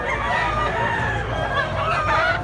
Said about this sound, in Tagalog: Stag pa rin siya, stag.